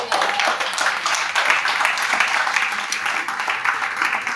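An audience at an entrepreneurship event claps in sustained, dense applause that holds steady and fairly loud throughout, with no voices over it.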